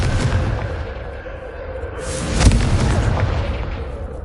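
A Confringo explosive spell blasts in Hogwarts Legacy, a deep booming impact that peaks mid-way over rumbling low-end combat noise, loud and close.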